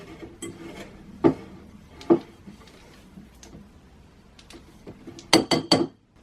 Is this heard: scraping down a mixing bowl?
yes